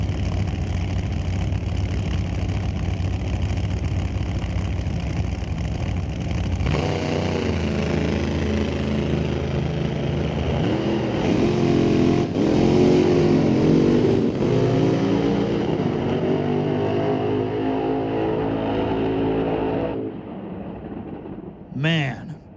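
A nitro Hemi drag racing car engine at an old-time drag strip qualifying event, a loud rumbling idle that swells into a rising, revving roar before cutting off, with a short burst at the end.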